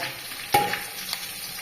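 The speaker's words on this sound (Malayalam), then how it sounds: "2-3 കഷ്ണം പച്ചമുളക്, വേപ്പില, 6 വെളുത്തുള്ളി അരിഞ്ഞത്. ഇവയെല്ലാം ഇട്ട് നന്നായിട്ട് വഴറ്റുക" Green chillies, curry leaves, chopped garlic and ginger saute in a pan for kurukku kalan, giving a soft sizzle with one sharp clink of a stirring spoon and a fainter scrape, close by.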